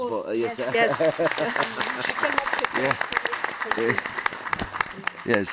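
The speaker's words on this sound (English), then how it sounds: "maybe we can give them a round of applause." A crowd claps in a burst of applause while a few voices talk over it.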